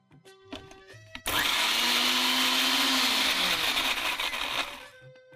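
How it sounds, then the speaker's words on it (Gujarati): An electric blender grinds blanched spinach into a smooth paste with no water added. After a few faint clicks it roars to life, runs loud and steady for several seconds, then winds down and stops. "સરસ રીતે એકદમ પેસ્ટ થાય ત્યાં સુધી ગ્રાઇન્ડ કરી લઈશું."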